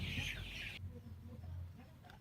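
Poultry clucking close by in a small flock on a farm: a loud burst of hen clucks and squawks for the first moment, then softer scattered clucks over a low background hum.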